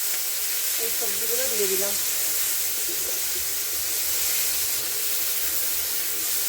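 Cauliflower and other vegetables hit hot oil tempered with cumin seeds, giving a loud, continuous close-up sizzle and crackle with a brief spoken remark early on.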